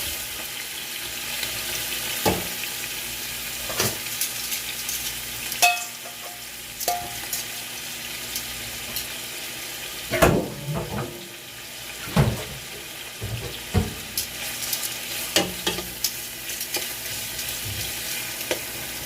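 Beef stew meat poured into a hot pan, frying with a steady close sizzle while a utensil scrapes and stirs it in irregular bursts, without speech.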